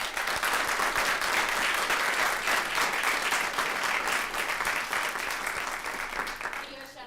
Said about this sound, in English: I just want to take a moment to also get a round of applause for our fall break